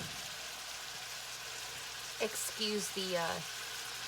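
Bacon grease sizzling in a non-stick pan gives a steady, faint hiss with a crackle throughout, heard under a brief spoken voice.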